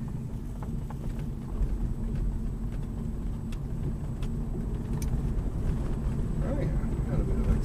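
Electric-converted BMW E36 car accelerating on a road, a steady low broadband rumble of tyre and road noise with a faint electric whine, rising gently as it picks up speed, with no engine note.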